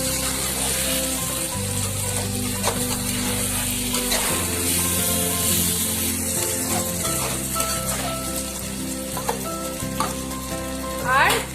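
Sliced tomatoes stirred in a frying pan, a continuous loud sizzle with repeated spatula scrapes and clinks against the pan, close up.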